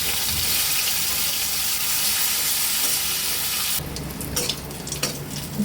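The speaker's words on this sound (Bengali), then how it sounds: "এই তেলের মধ্যে দিয়ে দেবো উচ্ছেগুলো।" Bitter gourd fries in oil in a wok with a loud, dense, continuous sizzle that suddenly drops to a softer crackle with scattered pops and stirring sounds.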